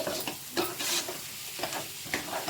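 Okra fry dusted with red chili powder is tossed and stirred in a hot pan, giving close, steady sizzling with a few brisk scraping strokes over about two seconds and no talking.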